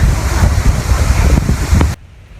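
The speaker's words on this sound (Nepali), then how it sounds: "धेरै हावा चलिरहेछ" Strong wind buffets the microphone in heavy low rumbling gusts, loud and continuous, then cuts off abruptly near the end.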